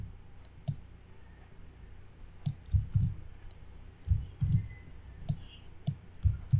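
Several sharp keyboard clicks come while a Ctrl+D shortcut is pressed at a computer, spaced irregularly and close, in a quiet room.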